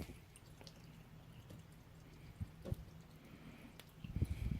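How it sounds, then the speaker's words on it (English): Whey draining from a herb-seasoned cheese as it is stirred with marjoram and salt: faint, sparse drips and soft wet squishes over a low hum, growing a little busier near the end. "as I stir my cheese, I can hear it drain a little bit more"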